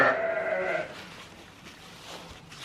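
A sheep on a farm gives a single loud, close bleat at the start, then quiet rustling and faint farmyard background.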